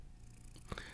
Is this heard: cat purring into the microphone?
yes